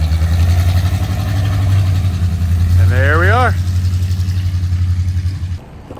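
A car's aftermarket exhaust gives a loud, low, steady rumble while the engine idles, running throughout under a short spoken phrase before cutting off near the end.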